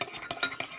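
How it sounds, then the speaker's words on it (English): A utensil stirring a borax mixture for homemade slime in a container, giving a few quick scraping and clinking strokes in a brief, close burst. "My mom is stirring the borax together."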